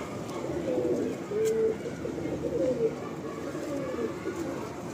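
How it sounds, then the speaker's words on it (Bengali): Pigeon cooing from a loft, soft repeated low coos rising and falling over steady background murmur, with faint speech-like sound mixed in. "এই হলো পায়রা।"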